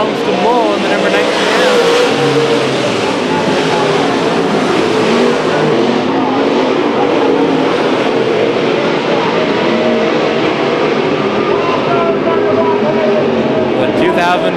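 Race cars roar continuously through a heat race at Chowchilla Speedway, a dense, loud wall of engine noise with cars surging past, while a commentator talks over it throughout.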